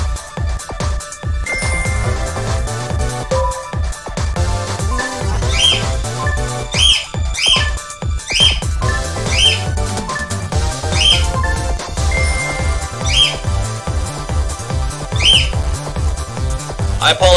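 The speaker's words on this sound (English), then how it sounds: "I apologize if you can hear the bird." An indoor pet bird squawks and screeches in loud, repeated bursts of shrill calls, recurring every second or so, mixed with other electronic sounds in the background.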